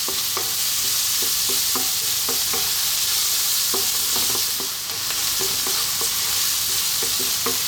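Egg fried rice with garlic stir-fried over high heat, a steady loud sizzle broken by repeated scraping and tossing strokes of a utensil in the pan, with no talking.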